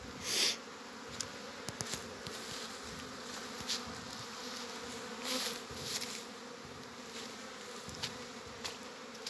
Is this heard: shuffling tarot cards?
no